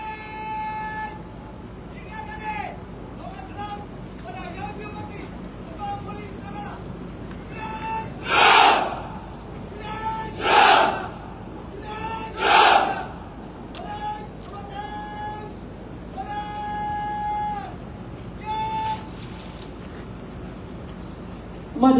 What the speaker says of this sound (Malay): 3 kali sorakan kepada Ketua Polis Negara